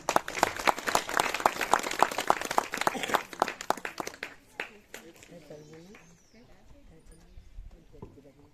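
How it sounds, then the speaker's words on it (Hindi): Audience applause and clapping for Manish, a child about to recite a short poem at an Ambedkar-themed event, starting loud and dense, then thinning into scattered claps under murmuring voices. "मनीष के लिए जरा तालियां हो जाएं।"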